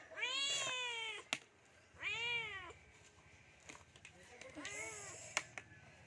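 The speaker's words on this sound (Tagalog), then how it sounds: "may katabi po ako pusa" A cat meows three times close by, each a drawn-out, rising-then-falling cry separated by short pauses, with light tapping and handling noises between the calls.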